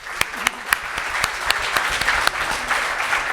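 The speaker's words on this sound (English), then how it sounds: "A big round of applause for Bhavna." An audience at a drone industry conference applauds, a steady wash of clapping punctuated by several sharp, distinct claps close to the microphone throughout the short burst.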